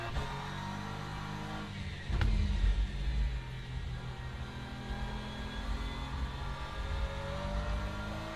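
A race car in the Le Mans Ultimate sim racing game drones with a steady engine note that swells as it accelerates after a brief thump, heard close without talking.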